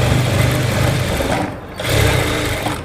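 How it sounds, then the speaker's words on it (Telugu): Sewing machine stitching cloth around a garment's sleeve seams, a loud close rapid mechanical chatter that pauses briefly, then runs again. "ఇలా పైన క్లాత్ని లేపుకుంటూ దీనిపైన మెల్లగా వదులుతూ కుట్టాలన్నట్టు ఇలా కుట్టుకుంటూ రండి"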